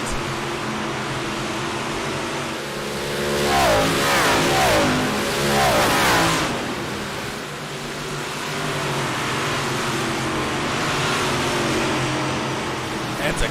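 Race cars at a speedway wind their engines out, a steady roar rising and falling as the cars pass by, with a loud swell in the middle and a constant engine drone throughout.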